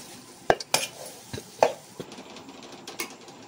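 Tempering being mixed into cooked rice for mango pulihora, a few sharp metal clanks and scrapes of a spoon against the pot at irregular intervals over a quiet background.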